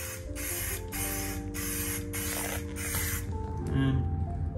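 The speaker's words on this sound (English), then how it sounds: "So we're gonna do a little test spray on this" A paint spray gun test-spraying primer gives a steady hissing blast for about three seconds in bursts, then cuts off, with a mechanical hum beneath.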